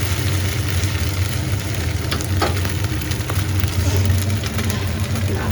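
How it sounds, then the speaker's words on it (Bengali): Fish crackles and sizzles steadily as it fries in hot oil until crisp, a dense close-up frying hiss with occasional sharper pops and stirring, no talk over it. "উপর আগে কড়মড়ি হয়ে যাচ্ছে মাছটা।"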